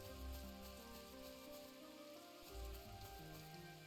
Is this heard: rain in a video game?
yes